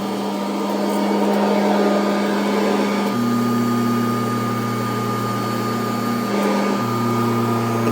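A Kirby vacuum cleaner runs steadily over carpet, its loud motor whine holding a constant drone that shifts pitch slightly partway through, with no voices.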